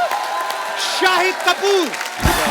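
Studio audience on The Kapil Sharma Show applauding and whooping to welcome Jersey stars Mrunal Thakur and Shahid Kapoor onto the stage, loud steady clapping and cheers under a host's excited announcement.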